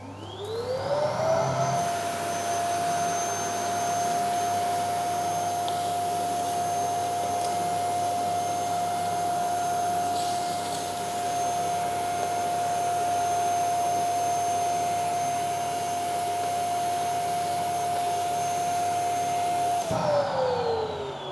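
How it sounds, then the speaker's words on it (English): A vacuum cleaner sucks soot from the contraflow channels of an Ecco stove, spinning up to a loud, steady high whine that holds for about twenty seconds before winding down. "So, simple vacuum."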